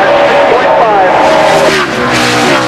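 NASCAR Winston Cup race cars at Richmond International Raceway, a loud, dense engine roar with pitch sweeps as cars pass, under a commentator's voice.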